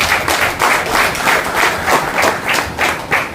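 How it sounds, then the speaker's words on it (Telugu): An audience at a Christian prayer gathering claps together in a loud, rhythmic wave, the hand claps pulsing in roughly regular bursts throughout. "జోసెఫ్ తంబి గారికి ప్రత్యేకంగా ధన్యవాదాలు తెలియజేస్తూ చప్పట్లు కొడదాం"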